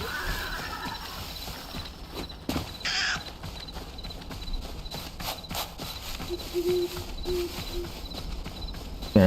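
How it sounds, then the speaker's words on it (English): A horse in the video game Hytale, with hooves clip-clopping and a brief neigh among clanking mechanical game sounds, moderately loud and without speech. "What the heck is that? Oh, it's a horse."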